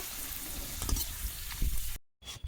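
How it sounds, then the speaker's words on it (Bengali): Papad fries in oil for a vegetarian dish, producing a close, crackling sizzle with a few sharper pops, broken by a short silent gap just before the end. "একইভাবে প্রত্যেকটা পাঁপড় আমি ভেজে নেব।"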